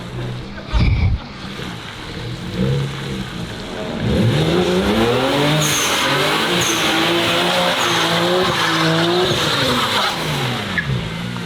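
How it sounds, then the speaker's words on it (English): A car spins one tire in a tire fire, engine revving loudly with rising and falling pitch over screeching tire squeal, close and sustained; voices faintly underneath. "I think it is open because it was only spinning one tire."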